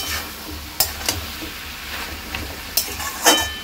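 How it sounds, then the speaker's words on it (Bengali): Coconut cooked down with sugar being stirred in a pan, with a soft sizzle running underneath and a few brief scraping knocks of the spoon against the pan spaced through the stretch. "ভালো করে নাড়িয়ে নিলেই হয়ে যাবে।"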